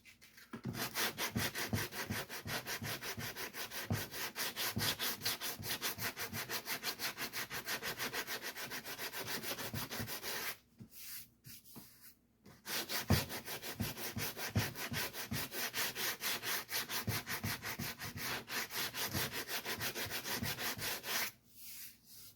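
A repaired motorcycle saddle bag is sanded by hand in rapid back-and-forth strokes, close and steady, across two long bursts split by a short pause, with no talking.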